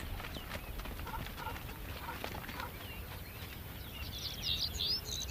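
Herders' horses clop in a loose, steady walking rhythm at middle distance as they move to and from water by a small river, with birds chirping brightly toward the end.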